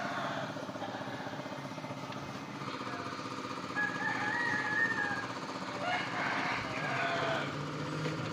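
A car engine runs steadily during a vehicle inspection, a continuous close mechanical drone with a faint rattling texture that swells slightly midway, with no clear talking over it.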